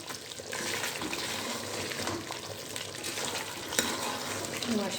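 Chicken karahi frying in masala in a kadhai, a steady close sizzle with occasional stirring scrapes and clinks, fairly quiet and unbroken by talk.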